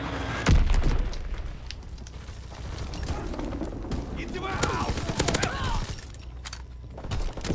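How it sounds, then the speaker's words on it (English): Mortar blasts and gunfire from the Call of Duty WW2 video game, with repeated sharp shots and booms, a heavy hit near the start, and bursts of firing mixed with game voices throughout. "Enemy mortar fire incoming."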